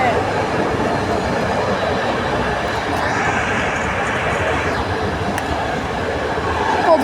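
An SU42 diesel locomotive towing a second, broken-down SU42 passes on a Polish railway line near Wejherowa, giving a steady, loud rolling rumble of wheels and engine that swells briefly midway.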